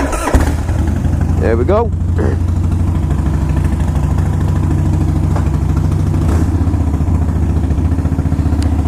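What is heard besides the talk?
2005 Harley Davidson Wide Glide carbureted engine cold start and idle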